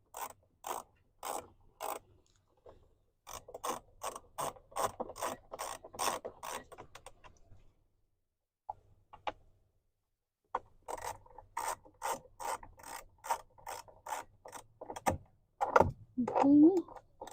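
A ratchet clicks in quick rhythmic bursts while tightening fasteners on the cabin air filter cover of a 2017–2022 Ford Super Duty F-250/F-350, close and crisp, with short pauses between runs.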